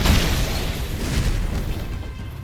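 Blitz Shot in The Strongest Battlegrounds fighting game: one loud, close explosive burst that hits at once and then decays into a broad rumbling hiss over about two seconds, no talk.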